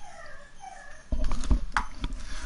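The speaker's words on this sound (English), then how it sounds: "My dog's caught somewhere." A dog whimpers while caught somewhere, giving a few thin, whining cries at low volume near the start before some louder bumping and scuffling noises take over.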